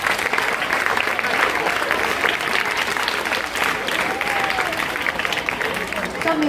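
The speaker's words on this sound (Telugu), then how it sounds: "సో మీరు అందరూ క్లాప్స్ కొట్టండి మీ పేరెంట్స్కి." Students at a school parent-teacher meeting applaud their parents, a loud, sustained roomful of clapping with crowd murmur mixed in from start to finish.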